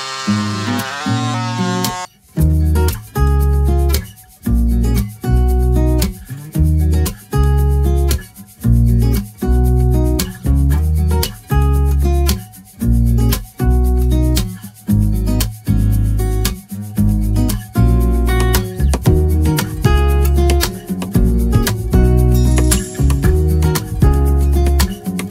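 A power tool cutting through beadboard with the trim left in place, loud and close, its motor whining in repeated bursts of about a second with short pauses between cuts.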